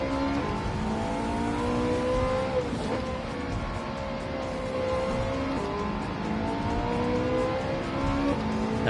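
Race car engine in a racing video game on a wet Tokyo track, droning steadily and close with rising and falling rev harmonics through short-shifted gear changes, a slight dip near the middle, with continuous tyre and spray hiss.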